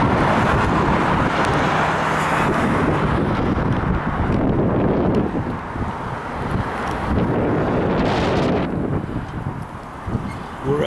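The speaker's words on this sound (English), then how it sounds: "Wind and more wind." Strong wind blowing outdoors at an RV park in Cottonwood, Arizona, roaring loud and steady into the microphone with buffeting gusts that swell and ease for about eleven seconds.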